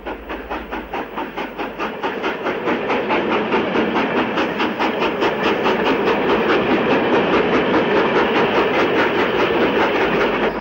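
A British Rail steam locomotive hauls the 15 Guinea Special out of Liverpool, a loud continuous rhythmic chuffing with rail clatter that builds over the first couple of seconds and then runs steadily.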